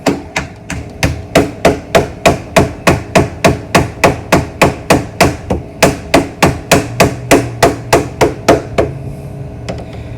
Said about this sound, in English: So I'm just gonna hammer the rest of it